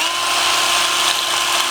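A power drill fitted with a 4mm bit runs steadily, whining at a constant high pitch while drilling out bracket mounting holes for rear LED lights on a Caterham car, with no talking.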